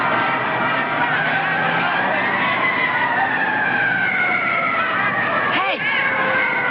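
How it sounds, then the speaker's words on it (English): A fire engine siren wailing loudly and steadily, its pitch sliding and bending as it passes, heard amid the thin, narrow sound of an old television recording. "Hey, that's a fire engine."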